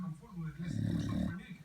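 A chow chow dog snores close by with a low, rumbling breath that swells and fades. A person speaks quietly around it.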